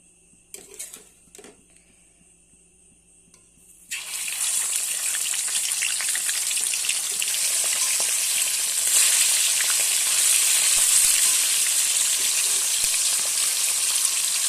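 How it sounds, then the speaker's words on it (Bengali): Fish for ilish posto frying in mustard oil in a hot wok: after a few faint clinks, a loud, steady sizzle bursts in and continues close up to the end. "মাছগুলো আমার হালকা করে ভাজা হয়ে গেছে"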